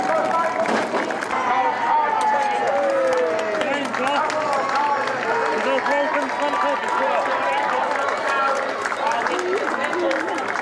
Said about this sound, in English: Give them all a big round of applause for the